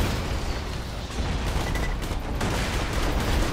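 Gunfire from a weapon in the video game Borderlands 2, heard as a dense, continuous barrage of shots and bursts that stays loud and steady throughout, with no talking over it.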